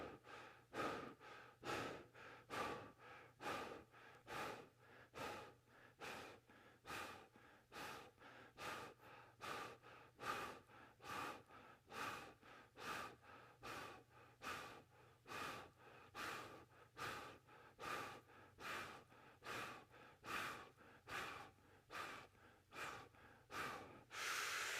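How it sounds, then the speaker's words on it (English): Rapid, rhythmic panting breaths of a breathing exercise, roughly thirty sharp, evenly spaced huffs close to the microphone, each puff distinct and quiet, with no talking. "So, kind of like a panting breath."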